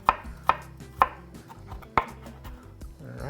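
A knife cuts lengthwise through a garlic clove on a board, four sharp close chops spaced about half a second apart, with a brief pause before the last, in quiet surroundings.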